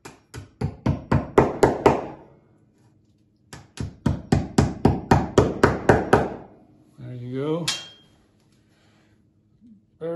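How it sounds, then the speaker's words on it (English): Two quick bursts of rapid hammer taps, about a dozen each, sharp and close, tapping anchors into a wall, separated by a pause, followed by a short voice. "Leave it on until you've tapped in your anchors"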